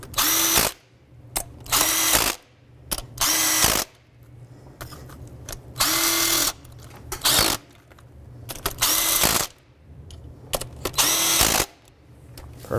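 Power tool tightening bolts while replacing the knock sensor on a 2003-2009 Toyota 4Runner, heard as about eight loud bursts of drill-like whirring with short gaps between them and no talking.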